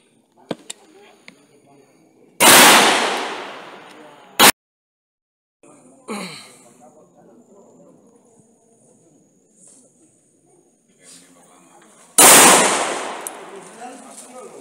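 Gunshots at a police-anniversary shooting competition with press participants, three loud, sharp reports spaced several seconds apart, with faint voices and small clicks between them.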